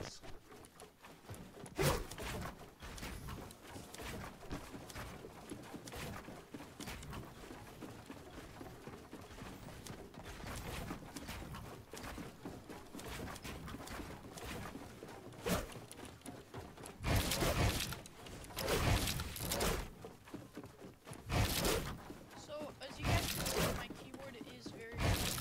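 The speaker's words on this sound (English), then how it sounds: "comment if you guys want me to do ASMR keyboard videos. I'll give you a sample right now for you guys to see how it sounds" Mechanical keyboard typing as a close ASMR sample, with irregular clicky keystrokes and dense bursts of rapid clatter spread over the whole stretch, louder flurries near the end.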